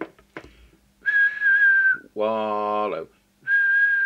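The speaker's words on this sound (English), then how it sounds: "I'll just check that with the whistle test." Whistle test tones through a Midland 48 Plus CB radio during transmit alignment: three steady whistled notes about a second each, separated by a short voiced hum and brief pauses, loud and close.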